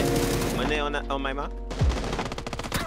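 Rapid bursts of gunfire from the shooter game PUBG, loud and close, firing in quick volleys and mixed with brief talk.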